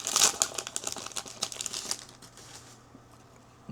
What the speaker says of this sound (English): I'll just bump the cards over just a hair.